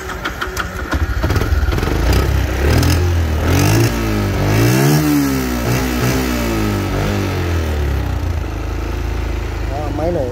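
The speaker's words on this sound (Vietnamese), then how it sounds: "Máy nổ rất là êm nha anh em." A Yamaha Exciter 135cc motorcycle engine runs close and loud, its revs swelling and falling repeatedly over a steady mechanical drone.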